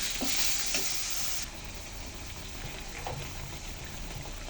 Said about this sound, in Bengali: আমি সামান্য একটু জল দিয়ে দিচ্ছি। এখন এটা নেড়ে চেড়ে কষাতে থাকবো।